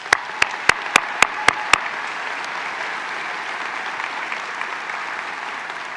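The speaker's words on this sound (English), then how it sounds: "Let's give them a round of applause." Sharp, loud claps open a round of applause at a veterinary medicine commencement ceremony, and the audience's clapping then carries on evenly for several seconds.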